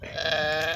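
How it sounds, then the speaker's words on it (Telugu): A lamb or young sheep bleats near a flock after a problem birth, a single sustained wavering cry close by, with no talk over it. "ఇదే ఆ గొర్రె"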